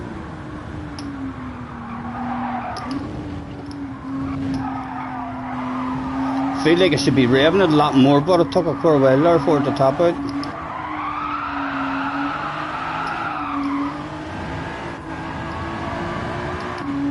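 In the racing game Gran Turismo 7, a car engine drones steadily, broken by a few seconds of warbling, squealing tires midway through, while someone talks over the game sound.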